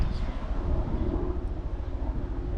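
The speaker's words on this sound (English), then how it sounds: "Well, that's a rare sight, a helicopter." A steady low rumble of a helicopter passing overhead, continuous and fairly loud, with faint wind noise and no clear talk.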